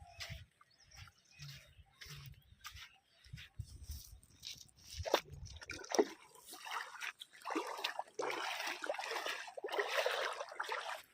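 River water at a village bathing spot, trickling and splashing steadily through the second half after a quieter stretch of low rumbling and scattered noises near the start, with no talk.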